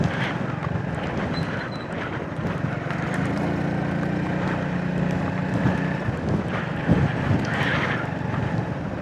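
Strong wind buffets the microphone in an open coastal spot beside the sea near mangroves and an oil refinery, a steady loud rushing roar with gusty swells and no talking.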